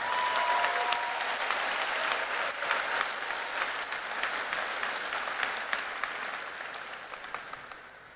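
Applause from a graduation ceremony audience, a full, even patter of many hands that holds for several seconds and then gradually tapers toward the end.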